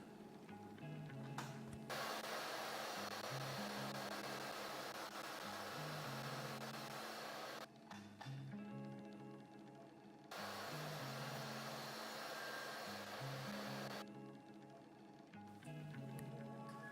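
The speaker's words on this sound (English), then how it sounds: "I'm on the table saw and I'm cutting the front panel too" A table saw cuts a wooden front panel for a letterbox, its broadband whine rising loud through each pass in repeated long cuts, separated by brief gaps where the blade spins down.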